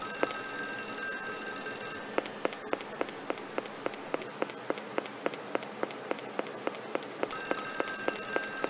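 A telephone rings in the Clock Tower video game, its bell sounding as a steady train of short repeated pulses through most of the stretch over a sustained electronic tone, with no talking.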